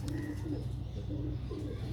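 Domestic pigeons cooing in low, soft rolling phrases, repeated several times at close range over steady background hum, with no talk.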